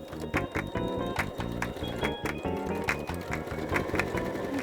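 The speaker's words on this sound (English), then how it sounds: "sew them together in groups of 2, and then sew those groups together until I have a nice long chain of pieced squares" A sewing machine stitches small pieced quilt squares together, its needle thumping in a fast, steady mechanical rhythm that continues through the clip, close and clear.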